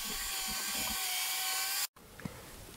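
A power sander works over an oak bench more than three meters long, giving a steady high-pitched whine and buzz that cuts off abruptly, followed by a few faint knocks in quieter room tone.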